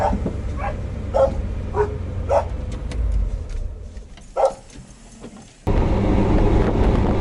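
Dogs bark at home near a 1990 Dodge W150 pickup truck, a string of separate loud woofs and yips spaced over several seconds, followed by steady background noise.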